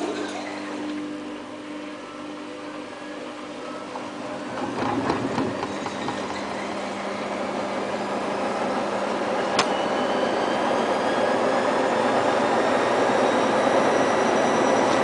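A Samsung WF8804RPA Diamond washing machine spinning a load of dog towels at 800 rpm, a steady mechanical whirr and rumble that builds gradually in loudness and pitch, with a few clunks from the drum along the way.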